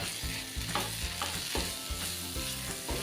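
Kantoli (spiny gourd) vegetable being stirred in a frying pan with besan, a steady close sizzle broken by rhythmic scraping strokes of a spoon, no talking.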